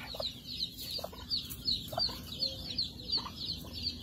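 Chickens cluck on a farm amid rapid, repeated high peeps, a steady busy chatter at moderate distance with no voices.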